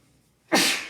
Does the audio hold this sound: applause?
no